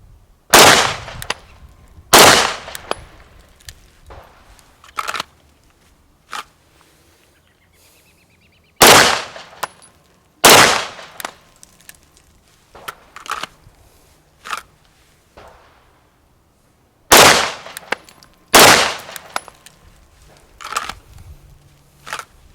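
Pistol shots fired in quick pairs during a dot sight drill, loud sharp cracks with short gaps for trigger resets, several pairs spread across the stretch with quieter handling noises between.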